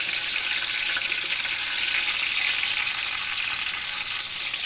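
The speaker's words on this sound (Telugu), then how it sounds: "నెయ్యి కాగింది కదా ఇప్పుడు మనం కట్ చేసుకున్న ఉల్లిగడ్డలు వేసుకోవాలి" Cut onions fry in heated ghee for biryani with a dense, even, hissing sizzle that holds steady throughout, close and fairly loud, with no voices over it.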